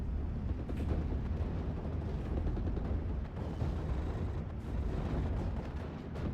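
A Nebelwerfer incendiary rocket barrage in a World War II strategy video game, with 6th Airborne facing 352 Infanterie: a dense, continuous rumble of distant blasts and crackling impacts, steady throughout, with no voices.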